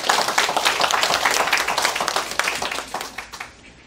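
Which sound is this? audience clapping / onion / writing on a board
audience clapping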